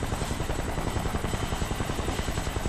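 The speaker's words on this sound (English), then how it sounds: "I hear that helicopter." Helicopter in the video game Kane and Lynch 2, a loud, close rotor chop with rapid rhythmic thumping over a steady engine whine, continuous throughout.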